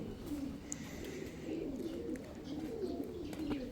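Andijan pigeons kept in Kyrgyzstan coo steadily in low, rolling, overlapping calls, close and continuous over a soft background with a faint chirp or two.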